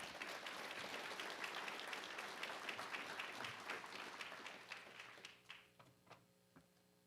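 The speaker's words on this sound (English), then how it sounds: "Another round of applause for him, please." Audience applause at a Department of Public Safety annual awards ceremony, a dense steady clapping from a full room that thins out near the end into a few scattered, separate claps.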